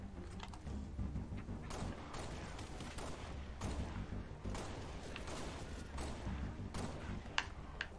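Video game gunfire crackles in rapid bursts and scattered single shots, with thumps and mechanical clatter mixed in, fairly dense and at moderate volume with no talking.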